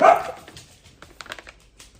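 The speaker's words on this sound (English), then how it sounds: "There go the dogs." Several dogs bark indoors, reacting to a crinkling treat bag. One louder bark opens, then scattered softer yips and bark-like sounds follow at a moderate distance, with no speech.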